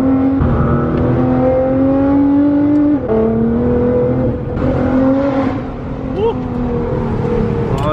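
A Nissan GT-R engine revs hard on snow, its strong tone climbing and dropping across several throttle blips, loud and close, with voices talking over it.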